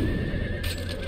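A horse in a video game whinnies loudly and close, one continuous neigh over a steady game background hum with clopping hooves mixed in.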